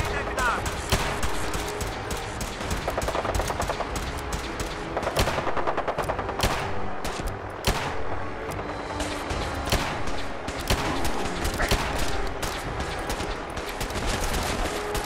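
Kellogg's weapon in Fallout 4 fires in steady rapid bursts, sharp shots repeating throughout at close range, loud and dense with brief gaps between volleys.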